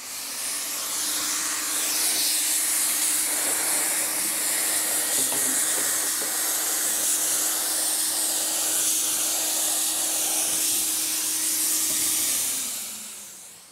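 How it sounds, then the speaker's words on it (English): A steady, loud hiss of Plasti Dip aerosol rubber coating sprayed onto a car, running continuously for over ten seconds with a faint constant nozzle whine, no voices. "That's what I'm going to be focusing on when I'm spraying my Plasti Dip spray."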